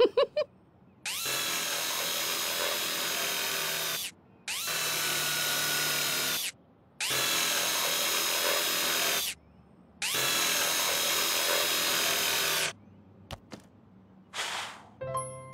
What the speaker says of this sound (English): zip of my drill.